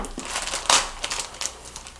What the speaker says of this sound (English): So I'm going to use these big scissors.